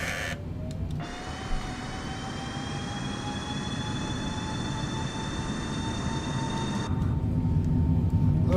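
Boeing 747-8F jet engines in Microsoft Flight Simulator 2020 spool up to takeoff thrust, a steady roar with rising whining tones that builds gradually and grows louder toward the end.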